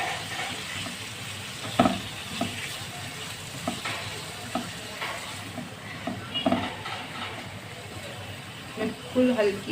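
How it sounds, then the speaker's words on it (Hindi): Prawns fry in a spiced masala in a karahi over low heat, a continuous crackling sizzle broken by repeated scraping knocks as a spoon stirs them, while a voice talks over the cooking. "अब हम इसमें झींगे ऐड कर देंगे जो हमने धो के साफ किए हुए थे।"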